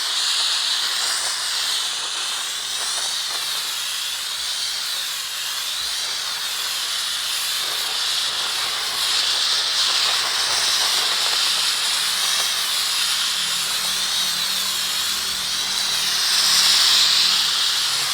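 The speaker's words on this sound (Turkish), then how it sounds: "Ondan sonra buhar üflüyor arkadaşlar." A Karcher SC3 Deluxe steam cleaner blows steam in a loud, continuous, close hiss that holds steady for the whole stretch and swells slightly near the end.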